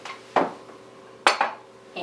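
A hot bowl is lifted from a microwave, making a few sharp clinks and knocks of dishware against a surface, spaced apart with quiet gaps between, close and clear.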